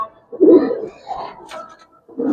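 Giribaz pigeons cooing close by, low throaty coos in a few short bursts separated by brief pauses.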